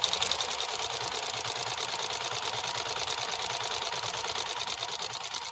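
A Janome 731 sewing machine stitching with a plastic bobbin, running in one continuous, even whir with a fast needle rhythm, close and steady with no pauses.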